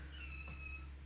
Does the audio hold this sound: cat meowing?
yes